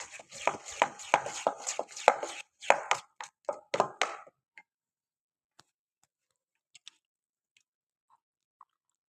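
Raw chicken squeezed by hand into thick pakora batter, close and wet, a quick run of squelching, slapping pulses for about four seconds, then near silence with a few faint isolated ticks.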